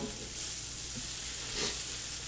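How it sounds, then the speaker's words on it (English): Hash browns and sausage sizzle on a hot breakfast griddle, a steady bright crackle of frying fat with a few soft scraping stirs, close and continuous. "our hash browns are cooking. Sausage is cooking."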